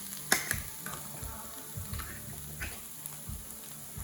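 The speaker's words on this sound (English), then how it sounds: "garlic, ginger. That's the basis for any curry. Just give that a few moments to cook that garlic out." Garlic and ginger fry in a pan as the base for a Rogan Josh meatball curry: a soft, steady sizzle with a sharp clack near the start and scattered utensil scrapes and taps throughout.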